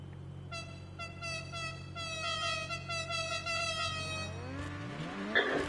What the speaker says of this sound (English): You can hear the honks of the horn.